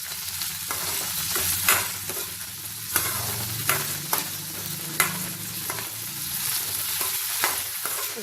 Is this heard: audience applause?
no